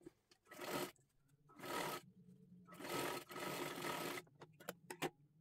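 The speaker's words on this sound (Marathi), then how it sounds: "ह्या बाजूने आपल्याला शिलाई करून घ्यायची आहे" A sewing machine stitches a sleeve seam on a girl's garment cut from a kathpadar saree, running in four short bursts of rapid whirring, then a few quick single taps, close and fairly quiet.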